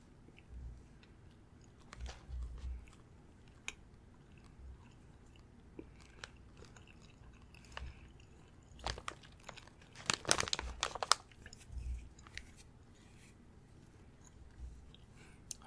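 Close-miked crunching and chewing of a crisp, biscuit-like Japanese snack from a Tokyo Treat box, with irregular soft bites, a louder cluster of crunches midway and faint wrapper crinkles, without talking.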